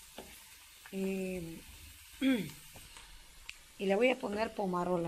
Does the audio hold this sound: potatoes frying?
yes